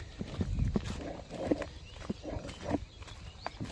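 Cattle being driven along a rural path beside a maize field, hooves thudding and clopping in an irregular walking rhythm, close by, with faint rustling around them.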